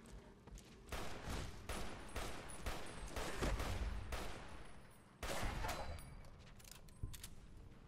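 Gunfire in the video game Fallout New Vegas comes as dense repeated shots in bursts and volleys, clattering continuously for several seconds with a short lull, fairly quiet overall.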